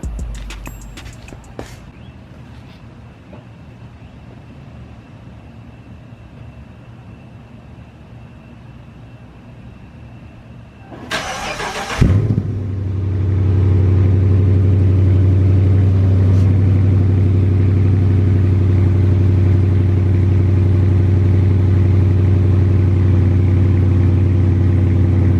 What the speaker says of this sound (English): That's the cold start for you.